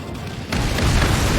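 A supply ship blows up during an aerial battle in the video game Ace Combat 7, a sudden heavy boom that swells into a dense, rumbling roar and keeps going.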